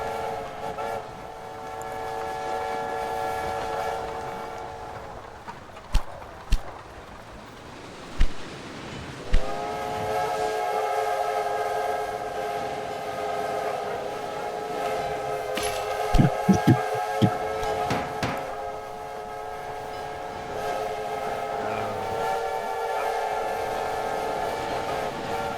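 A chorus of overlapping steam train whistles at London Station in Railway Empire, sustained and layered over rumbling rail noise, with a few sharp clanks and a brief lull before the whistles swell again.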